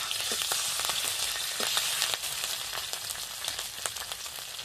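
Ginger paste and green chillies fry in hot rapeseed oil with cumin. There is a continuous bright sizzle close by, and light clicks of stirring scatter through it.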